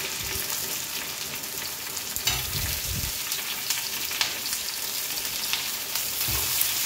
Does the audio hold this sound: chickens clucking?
no